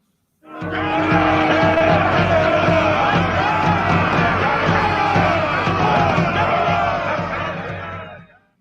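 A Klingon crowd roars in jubilation as Gowron and his guards enter, a radio drama sound effect: a loud, sustained wall of cheering and shouting voices that swells in quickly, holds for several seconds, then fades out.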